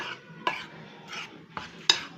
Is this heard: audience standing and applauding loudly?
no